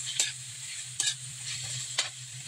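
Alugbati leaves with egg stir-fried in a pan, a continuous soft sizzle broken by three sharp scrapes of a utensil against the pan, with no talk.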